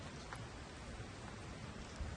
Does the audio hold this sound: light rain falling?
yes